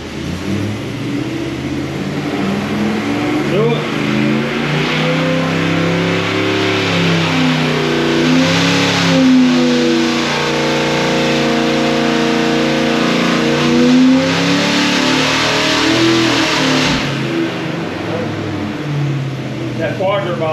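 A 408 cubic inch small block Chevy engine revving on a dyno, a loud, close, sustained roar that climbs steadily in pitch through a long pull, eases, then rises again, with voices faintly underneath.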